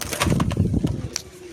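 Restless Jiriya Mundi Sada pigeons kept at home let out a brief burst of low, throaty cooing close up, a few quick pulses over little more than a second, with no speech.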